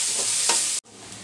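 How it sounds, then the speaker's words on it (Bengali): Thinly sliced onion and three or four cloves of garlic frying lightly in a pan, a steady close sizzle with a brief stir scrape, cutting out for a moment before the hiss resumes. "একটা পেঁয়াজ কুচি আর 3-4 কোষ আমি রসুনকে একটু পাতলা করে দিয়েছি, তাড়াতাড়ি যেন ভাজা হয়ে যায়।"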